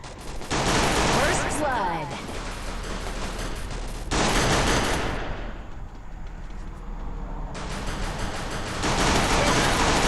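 Video game gunfire crackles in dense bursts of rapid shots that come and go over ten seconds, loud and close, with a player's voice likely mixed in.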